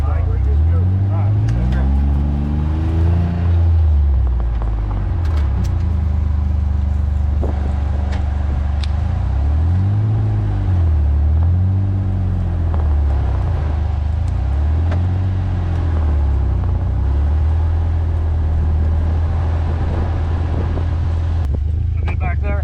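A vehicle drives through a burned prairie pasture, its engine a low, steady rumble with a few rising and falling revs throughout, close by, while people talk over it.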